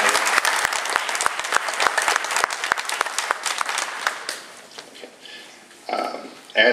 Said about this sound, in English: And a round of applause to Shane Carlton as well